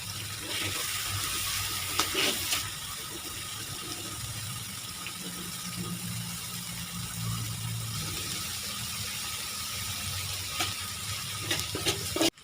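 Mee goreng sizzles and is stirred in a pan as salty, sweet and dark soy sauces go in, a steady frying hiss with occasional clatters of the utensil against the pan, close and continuous.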